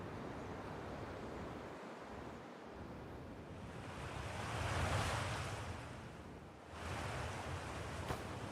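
A splash followed by a steady rushing, underwater-like wash as a character dives into water in the space exploration game Outer Wilds. The wash swells in the middle, drops briefly, then picks up again. No voices.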